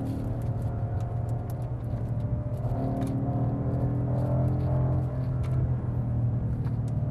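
A new BMW M5 accelerates with a steady, smooth engine rumble and rising whir heard from inside the car, continuous and moderately loud with no talking.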